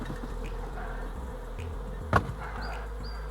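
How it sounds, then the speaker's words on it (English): Honeybees buzz steadily at an open hive, a close continuous drone with one brief sharp knock partway through and a passing higher whine near the end. "There's honeybees."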